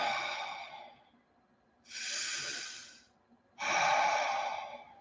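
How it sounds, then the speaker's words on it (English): Deep, slow breathing during a meditation session: three long, airy breaths, close and clear, with short pauses between them. "Everybody breathe. Everybody breathe."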